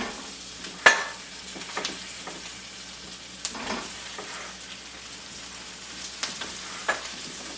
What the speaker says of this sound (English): Can you hear them sizzling?